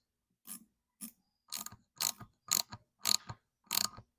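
A 6mm wrench ratchets on a coolant tube fitting of a Vulcan 750 motorcycle engine, seven crisp, close ratcheting bursts spaced about half a second apart with quiet gaps between.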